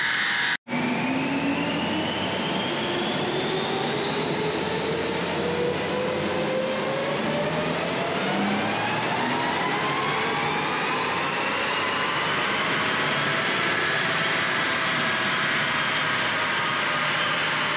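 A 1.9 diesel engine with a BMW turbo, 360 injectors and 11 mm plungers running on a dyno, roaring loud and steady with a rising whine as the revs climb through a long pull after a brief click at the start.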